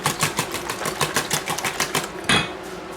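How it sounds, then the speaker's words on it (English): A whisk beats an omelet egg mixture seasoned with salt and pepper in a bowl, giving fast, steady ticking clicks close by that end with a sharper knock. "I'm going to go ahead and whisk this all together"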